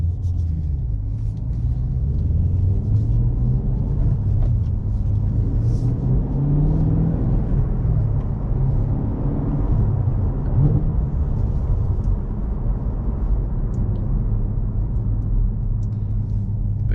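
A Cadillac CT5-V Blackwing sedan accelerates hard under throttle, its engine a deep, continuous rumbling drone with rising tonal sweeps as it pulls through the gears, heard from inside the car with no talking.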